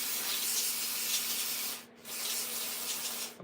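Ice-cold aerosol cleaner sprayed onto saw blades in a woodworking shop, a loud continuous hiss that breaks off briefly and then starts again, close and alone with no talking.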